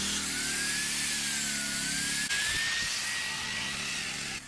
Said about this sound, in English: He used the angle grinder to trim the top stones.